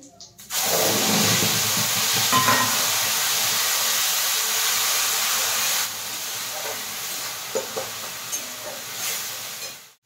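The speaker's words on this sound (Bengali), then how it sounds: "এবার ফোড়নে দেব গোটা গরম মশলা, তেজপাতা, শুকনো লঙ্কা, জিরে।" Whole garam masala, bay leaf, dried red chilli and cumin hit hot mustard oil in a wok, bursting into a loud, steady sizzle that eases after several seconds, with a few faint clinks.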